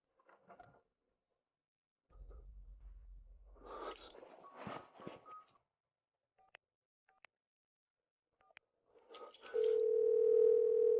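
A telephone dial tone sounds while a call is placed, preceded by a few sparse beeps and short rustles; the steady tone enters loudly near the end and holds alone.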